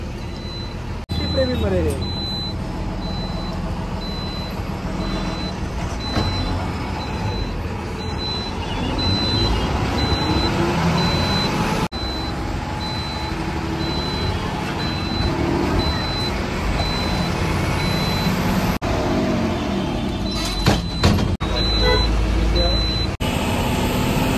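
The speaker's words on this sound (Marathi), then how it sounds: "तर फायनली आपली बस सुटलेली आहे।" Sleeper bus departing Mumbai Central, a low engine rumble and traffic noise throughout, with reversing beeps repeating and people talking nearby.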